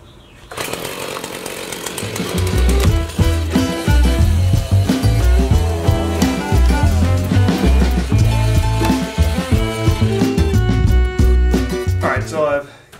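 Chainsaw cutting through a hickory log, a loud, close engine roar that starts up, settles into a steady high snarl through the cut, and drops away at the end.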